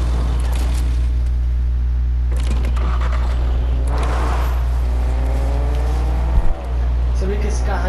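A car engine drones steadily in the Fortnite video game, a loud low hum carrying throughout with voices talking over it.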